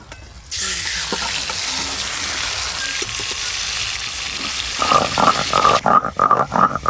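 Pieces of a large pangas fish fry in hot oil, giving a loud, dense, hissing sizzle that starts suddenly and holds steady, then gives way to clattering, knocking kitchen handling toward the end.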